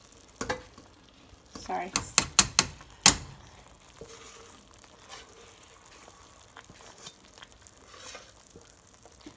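Beef stew ingredients scooped into a pressure cooker, a cluster of close metallic clinks and wet scraping knocks in the first few seconds, then quieter faint shuffling, with a brief spoken word.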